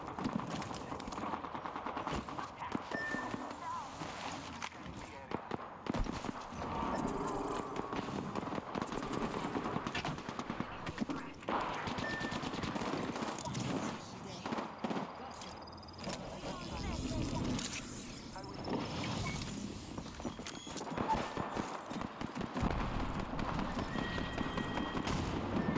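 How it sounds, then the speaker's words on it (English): Constant gunfire from Apex Legends with weapons firing non-stop through the fight, dense rapid bursts layered over game effects and occasional voice. "They're just shooting non-stop."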